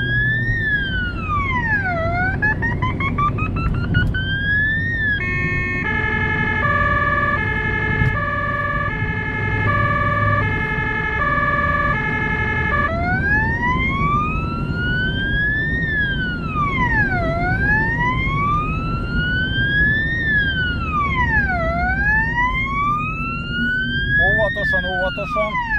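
Emergency vehicle siren on a life-saving transport, loud and continuous, sweeping up and down in a wail, switching to a rapid alternating yelp pattern midway, then returning to slow wailing sweeps over road noise.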